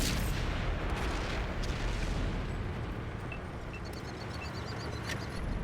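Cannon fire from a Chieftain Mk.6 tier 10 heavy tank in World of Tanks console, booming explosions over a constant heavy rumble, with faint higher pops scattered later.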